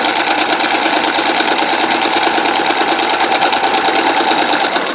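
A sewing machine runs steadily, basting long stitches along fabric lines in a close, continuous mechanical whir with rapid needle ticking, loud and unbroken from start to finish.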